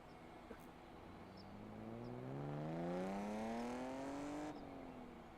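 BMW M3 engine revving up as the car approaches, pitch climbing steadily and loud before it cuts off and eases down, with no talk over it.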